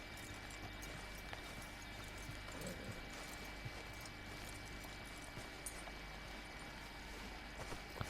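A horse in Red Dead Redemption 2 walking with soft, rhythmic clip-clop hoofbeats over low ambient game background, faint and steady with no clear whinny.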